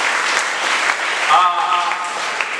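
Applause from the audience at a 2023/24 prize distribution ceremony forms a dense, steady clapping roar throughout, with a voice briefly heard over it.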